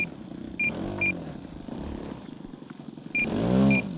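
A Hanger9 J3 Cub RC model plane's small engine runs on the ground over a rutted field, a steady buzzing drone that swells in two louder bursts, with short high clicks and rattles over it.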